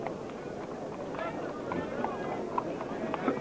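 Horses galloping in a UK horse race, including a grey horse, heard as a continuous rumble of hoofbeats at middle distance with a commentator's voice running over it.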